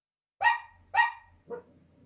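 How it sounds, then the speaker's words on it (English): A dog gives two sharp, loud barks in quick succession followed by a softer, shorter third bark, heard close and alone against silence. "It was my dog."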